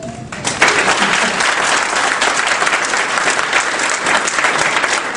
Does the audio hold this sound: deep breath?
no